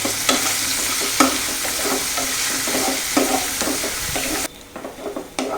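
Onions sautéing with a pinch of salt in a pan for a kayamezhukkupuratti, a close, steady sizzle broken by repeated scraping stirs of a spoon, the frying briefly dropping quieter near the end.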